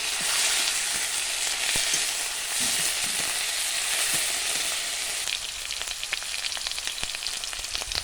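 Ginger, garlic, onion and green chilli paste fry for a mushroom curry, a dense bright sizzle that eases after a few seconds into sparser crackles and pops.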